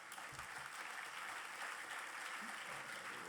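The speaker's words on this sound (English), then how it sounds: "I think everyone in this room needs an applause for themselves." An audience at a lifetime achievement award event claps steadily in a dense, even wash of applause, faint and somewhat distant throughout, with a few low thumps near the start.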